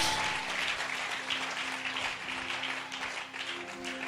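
Church congregation clapping and cheering in praise during a worship service, a dense continuous wash of applause with a steady sustained tone underneath throughout.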